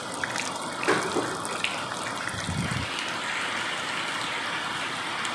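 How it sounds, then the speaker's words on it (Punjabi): Heavy rain with water gushing from a roof drainpipe, a dense, steady roar of pouring water close by, continuous for the whole stretch with a few brief splashes. "ਜਦੋਂ ਮੀਂਹ ਜ਼ਿਆਦਾ ਹੋ ਜਾਂਦਾ ਉਦੋਂ ਪਰਨਾਲਾ ਵੀ ਜ਼ਿਆਦਾ ਹੋ ਜਾਂਦਾ"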